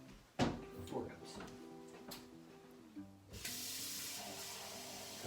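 Tap water gushes steadily into a soup pot for a vegetable soup with cabbage, a loud continuous rush in the last couple of seconds after a stretch of close-up talking and kitchen clatter.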